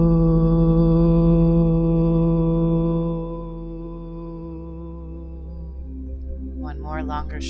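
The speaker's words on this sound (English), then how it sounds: "Make a deep guttural sound together." A group at a tantra meditation session chants a deep guttural earth tone together, a sustained low droning hum that fades and thins, then a breathy rasp enters at the end.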